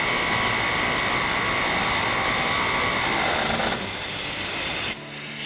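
A power tool whirs steadily while a part is tightened during the hand assembly of a Morgan car, a loud continuous drone that holds for several seconds before shifting in pitch and cutting down near the end.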